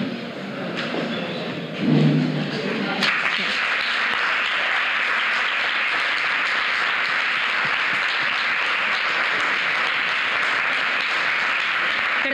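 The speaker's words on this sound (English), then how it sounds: "Big round of applause, please." A crowd at a prizewinners' ceremony breaks into sustained applause that stays loud and steady, following a brief murmur of voices at the start.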